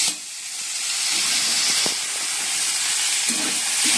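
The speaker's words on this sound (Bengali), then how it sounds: "গাজর বিনস ভেজে নিচ্ছি আর একটু পেঁয়াজও দিয়ে দিচ্ছি" Carrots, beans and onion fry in a pan with a steady, close sizzle and hiss and a few faint clinks beneath.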